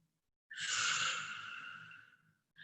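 A single long, audible exhale during a breathing exercise, a breathy airy rush that starts after a brief silence, holds strongly, then slowly fades, with the start of another breath right at the end.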